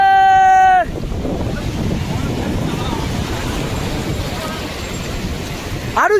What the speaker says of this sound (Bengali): এই দেখো এবার বড় ঢেউ বড় ঢেউ